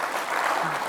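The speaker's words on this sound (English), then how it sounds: "So I think this deserves a bit of applause" A brief burst of audience applause at a business conference, dense, even clapping lasting under a second.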